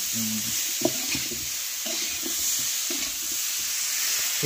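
Rohu fish cooks in a pan with a steady sizzle, broken by the scrape and knock of a spatula stirring now and then.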